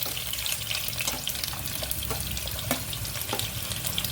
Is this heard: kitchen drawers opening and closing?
no